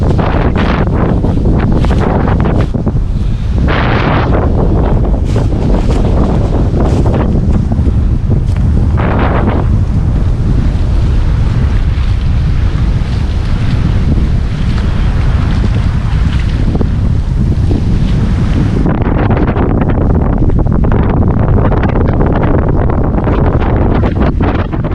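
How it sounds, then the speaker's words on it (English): Strong, cold wind roars steadily over open water at a lakeside point, heavy buffeting gusts hitting the microphone with waves washing underneath, loud and unbroken for the whole stretch. "that was stupid windy and pretty cold to boot"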